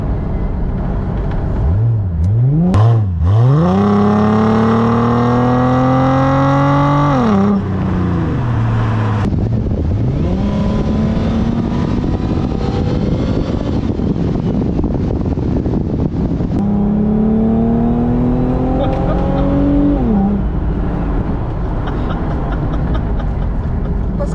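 A 2007 Ford Mustang V6 engine revs up and down in several rising and falling surges, loud and close, with wind noise and no speech.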